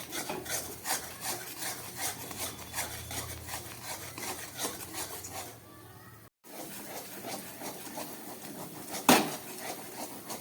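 A thick masala of onion, garlic, chilli, cumin and poppy seed with a little tomato scraped and stirred in a pan, steady rasping strokes, close and moderately loud, with a brief dropout and a sharp clack near the end.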